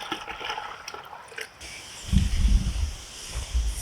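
Yeast fertilizer starters are dumped into a container of liquid, a short burst of sloshing and splashing after a stretch of faint rustling, fairly close and with no talking.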